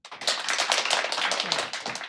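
A small group of people clapping together in a room, a quick, dense burst of close, loud claps lasting about two seconds.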